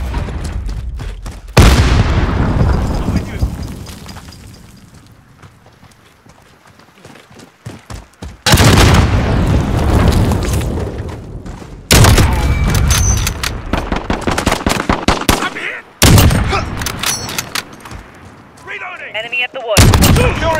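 In a Domination match of a first-person shooter, an AX-50 sniper rifle and an R9-0 shotgun fire loud booming shots and blasts in abrupt bursts. Explosions and heavy impacts break up the quieter stretches, with brief voice callouts in between.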